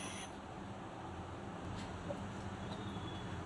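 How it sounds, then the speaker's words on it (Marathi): A kitchen mixer grinder whirs steadily, grinding tomato and mild Kashmiri red chillies into a fine paste, a constant motor drone with a rough, even churn throughout. "मिक्सरला याची बारीक पेस्ट करून घेऊ"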